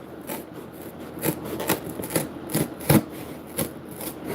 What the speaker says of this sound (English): Try to sharpen this thing up.